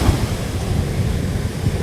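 Rough sea surf at Chavakkad beach near the Thottappu lighthouse under dark rain clouds, a steady roar of breaking waves mixed with gusty wind buffeting the microphone, with no voices.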